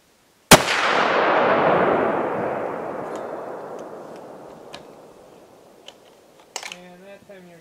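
A single sharp gunshot fired at a target during deer stand weekend prep, loud and close, with a long reverberant decay rolling out over several seconds before a brief voice at the end.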